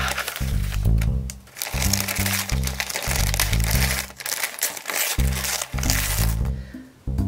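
Colorful star-patterned wrapping paper crinkles and tears in loud, close bursts as a present holding die-cast toy vehicles is unwrapped, with brief pauses between the rips.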